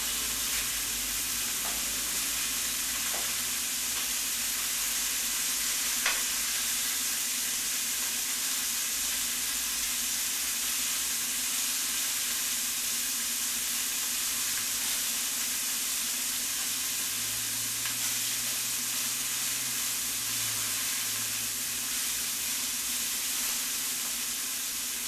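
Dragon tongues searing in a hot pan make a loud, steady sizzle and hiss that runs unbroken throughout, with a few faint clinks and no voices.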